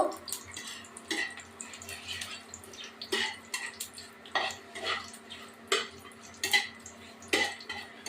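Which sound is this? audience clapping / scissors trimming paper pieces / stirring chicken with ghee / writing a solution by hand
stirring chicken with ghee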